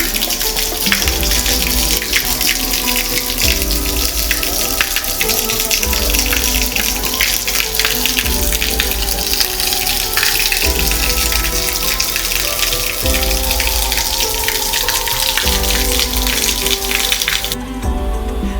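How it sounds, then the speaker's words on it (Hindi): Water falls from a gaumukh spout into the Lakshman Kund pool at Turturiya, a loud, unbroken splashing gush that fills the space, close and steady throughout with no voices. "जब पानी इस नाले से होते हुए गौमुख से जब लक्ष्मण कुंड में गिरता है तब तुरतुर की आवाज आती है"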